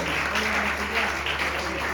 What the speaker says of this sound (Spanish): Así que si podemos darle otra rondita de aplauso a ellos.